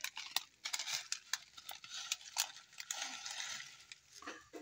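A spoon stirs misua noodles through a pot of patola and egg soup, soft repeated scraping and clinking with faint bubbling, quiet and close.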